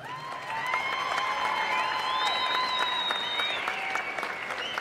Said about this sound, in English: I want a round of applause for her